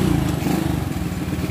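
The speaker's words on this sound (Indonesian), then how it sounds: "Kita coba nyalakan motornya dulu." A motorcycle engine just started and idling, a loud, close, lumpy putter with a regular beat, no voices.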